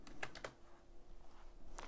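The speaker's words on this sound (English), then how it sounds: "I'm just typing on Discord about that." Quick keystrokes on a computer keyboard, a few close clicks in a short burst followed by a pause and another couple of taps, with no talking.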